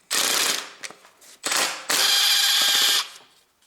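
A power ratchet or air tool rattles in three short bursts while 12mm bolts are loosened on the fuel injector line of a 2002–2009 Toyota Prius 1.5 engine, close and loud with brief pauses between.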